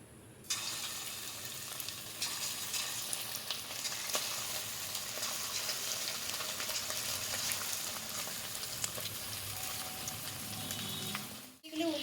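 Chicken pieces frying in hot white oil in a wok, a loud, steady close-up sizzle that holds throughout and drops away briefly near the end.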